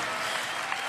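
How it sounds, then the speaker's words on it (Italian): Brief burst of concert audience applause and cheering at a live pop show, a dense, steady wash of clapping from a large crowd with no speech. "un applauso a questa band incredibile"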